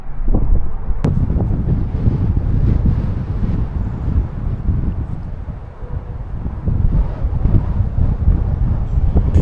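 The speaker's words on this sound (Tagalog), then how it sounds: "sobrang lakas ng hangin" Strong wind roars and buffets the microphone continuously, a loud low rumble that never lets up.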